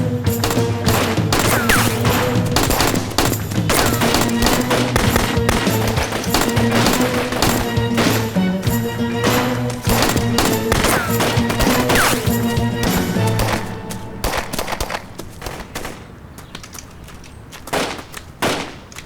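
Gunfire in a dubbed drama scene, dense rapid volleys of shots and impacts filling most of the passage, loud and continuous before thinning into scattered bursts near the end.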